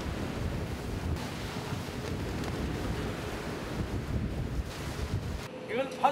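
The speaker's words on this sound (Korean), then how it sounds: "바람이 거세집니다." Strong wind buffets a fishing boat at sea off Korea while puffer fish are caught, a steady broadband roar of gusts and microphone buffeting with water sloshing underneath, continuous and close, briefly dropping near the end.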